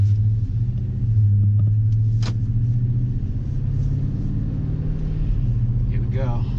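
A 2016 Toyota Tundra on a test drive gives a steady, loud low engine rumble and road drone from inside the cab, with a brief squeak partway through and someone talking over it.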